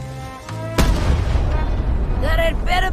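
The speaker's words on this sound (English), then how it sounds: "Ready for cannon firing." A cannon in the video game Return to Monkey Island fires with a single sudden boom that rolls on as a rumbling tail, followed by a character's voice speaking over the fading echo.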